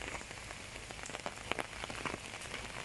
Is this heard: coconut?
no